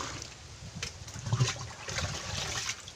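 Water poured into a drum for watering watermelon plants on a farm, a steady splashing trickle with a few louder gushes, heard alone in the open air.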